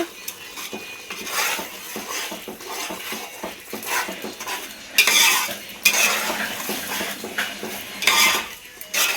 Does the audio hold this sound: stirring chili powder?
yes